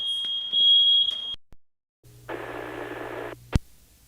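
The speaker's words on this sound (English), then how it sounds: "Whoa, I have a smoke detector going off." A household smoke detector alarm beeps in loud shrill bursts, with a burst of radio static and hiss following on an amateur television repeater channel.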